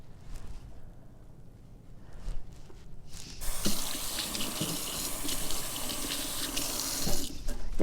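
Kitchen tap turned on to wet hands while kneading sourdough bread dough made with levain, a steady loud rush of running water after a few seconds of quiet handling noises, close by.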